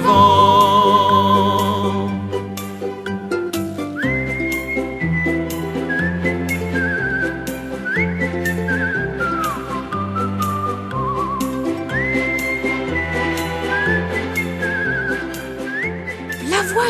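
Person whistling a melody over a steady music backing, clear and prominent with rising slides between phrases, continuous throughout.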